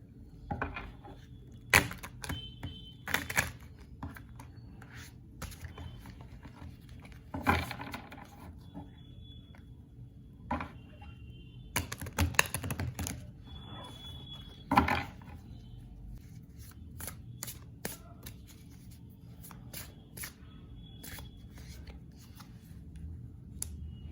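Tarot cards being shuffled in a tarot reading: repeated soft riffling and flicking bursts at close range, uneven in rhythm, with brief pauses between shuffles and no talking.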